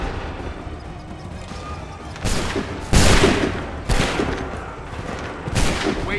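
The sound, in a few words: musket volley gunfire from Assassin's Creed III video game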